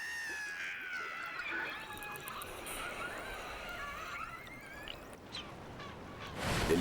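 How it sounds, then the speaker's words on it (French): An orca's alarm call underwater, a wavering series of squealing, honk-like whistles that rise and fall for several seconds and fade, followed by a burst of splashing rush at the end. "La fille aînée lance un cri d'alarme pour rameuter les autres."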